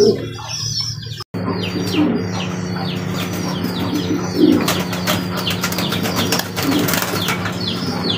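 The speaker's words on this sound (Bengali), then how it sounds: "এটা হচ্ছে শৌখিন কবুতর আর দেখার মতো একটা পেয়ার বিগ সাইজের।" A big-sized breeding pair of fancy pigeons coos steadily and close by, a continuous low throaty murmur with occasional wing flaps and chirps throughout.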